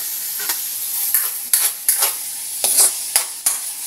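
Chicken breast toasting in a pan gives a steady hiss of frying, with repeated scraping stirs of a utensil at irregular intervals and no talking.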